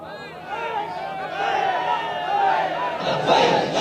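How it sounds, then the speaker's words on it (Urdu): A crowd of supporters at a religious gathering raises loud chanted slogans, voices swelling together in rhythmic cries that build and grow stronger toward the end. "اجے تک بن ویکھے لبیک دے نعرے لگ رہے ہیں"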